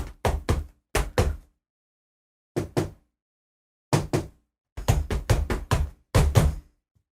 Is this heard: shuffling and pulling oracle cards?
no